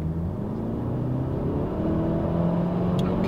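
A VW Golf R fitted with a factory Akrapovič titanium exhaust revs, a close, deep, rumbling engine note with rising harmonics that climbs steadily for about three seconds.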